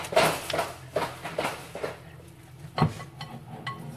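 Cooked chicken being chopped in a pan for a chicken bacon ranch pizza: a run of irregular metallic scrapes and taps of utensil against pan, close and moderately loud, with no talking.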